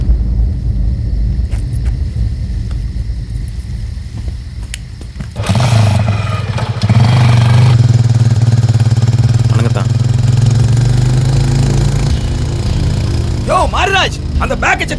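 A vehicle engine starts up partway through and keeps running with a loud, steady rumble close by, while people speak over it and a voice rises near the end.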